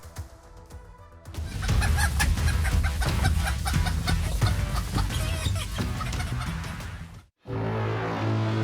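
Chickens cluck and crow loudly and continuously at a large poultry market in Delhi, a dense busy chorus of many birds close by, with a brief sudden cut near the end before the clucking resumes.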